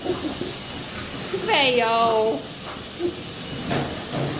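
A blow dryer runs as a steady hiss on a senior dog after its bath, while a person talks soothingly to the dog and a short whining yelp rises over the noise partway through.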